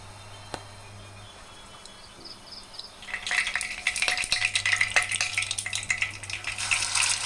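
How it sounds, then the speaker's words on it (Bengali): Oil begins to sizzle and crackle in a pan, the hissing rising partway through and continuing steadily with small pops, as white cooking oil heats before frying meatballs. "এবার প্যানের মধ্যে আমি সাদা তেল দিয়ে দেবো"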